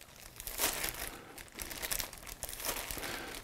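A plastic bag crinkles and rustles in bursts as a paintbrush is wiped clean of excess paint inside it, close and fairly loud with short pauses between handlings.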